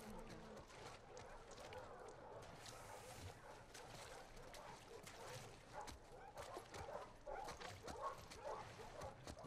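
Dogs in The Last of Us Part II bark, yip and whimper in faint in-game sound, with someone talking over the sound.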